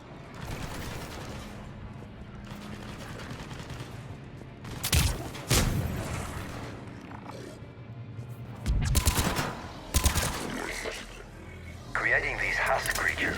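Gunfire from the Mass Effect 3 Legendary Edition video game comes in a few sharp, loud bursts around the middle and later part, mixed in with in-game voices and background sound.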